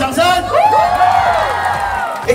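Audience at a live Chinese New Year stage show cheers and whoops in response to a host's vote call, a loud, dense crowd roar with shouting voices sustained throughout.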